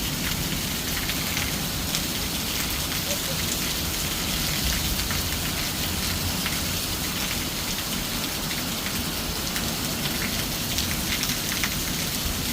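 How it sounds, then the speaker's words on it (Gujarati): Heavy rain in Kalavad, Gujarat, pours steadily, loud and close, drumming on a surface with a constant dense patter and no talking. "વરસાદ વધી ગયો છે"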